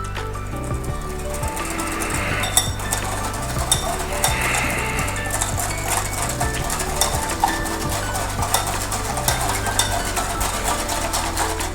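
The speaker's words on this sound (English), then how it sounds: "And then we whisk this together." Whisking a milk and egg yolk mixture for ube cheese mamon, with steady scraping and clinking of the whisk against a bowl and a continuous low hum underneath, with no talking.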